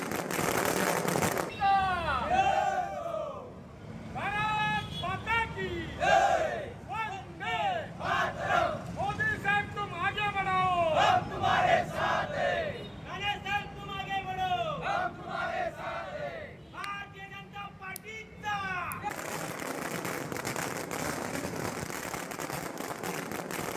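BJP workers and office-bearers celebrate at the Sindhudurg district party office, a loud crowd cheering and chanting in rhythmic, rising bursts of shouted slogans that fall away near the end into steady background noise.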